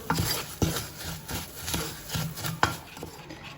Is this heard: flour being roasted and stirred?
yes